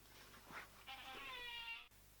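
A cat lets out a soft, close meow, then a longer, drawn-out tonal meow that stops abruptly, quiet in an indoor room.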